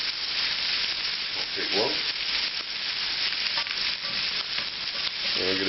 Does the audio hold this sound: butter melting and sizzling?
yes